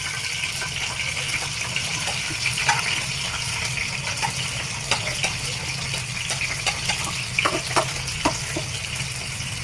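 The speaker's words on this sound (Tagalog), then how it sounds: "Unang ilagay ko bawang." Garlic frying in cooking oil in a pan for Bisaya beef balbacua, a steady close sizzle with scattered crackles and pops running throughout, no voices.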